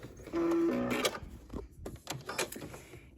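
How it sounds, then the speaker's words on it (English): A sewing machine back-stitching fabric binding, running in a steady close whir for about a second before stopping, followed by softer handling noises. "So, and then I'll do a back stitch, and I'll cut my thread."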